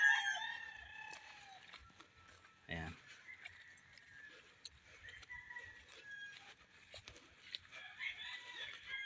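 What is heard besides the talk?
chickens clucking and rooster crowing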